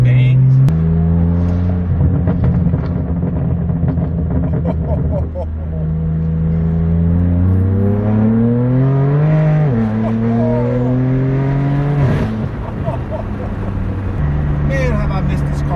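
Straight-piped BMW M4 F82 in Sport Plus, its exhaust burbling with low rumbling tones that rise and fall through the revs, close and loud; someone talks over it throughout.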